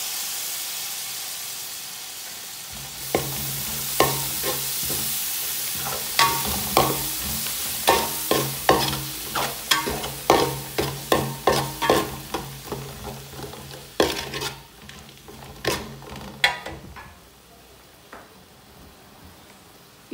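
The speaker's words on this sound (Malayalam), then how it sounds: "ഇത് നന്നായി വഴഞ്ഞ് വരുന്നവരെ വഴറ്റിയെടുക്കാം." Tomatoes sautéing in a pan for Arabic biryani, with a continuous frying hiss broken by a run of sharp, rhythmic spoon scrapes and clanks against the pan, loud and close, tapering off near the end.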